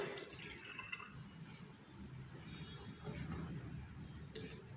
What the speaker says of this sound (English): Then pour the NaOH solution in the clean polythene bottle.